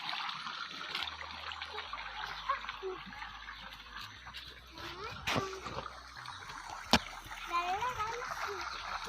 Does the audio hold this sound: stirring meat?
no